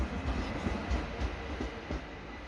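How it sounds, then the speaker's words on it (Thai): A train rolls along a rural railway, its wheels giving a rhythmic clickety-clack over the rails in a rumbling, moderately close pass with no voices. "มาแล้วรถไฟ"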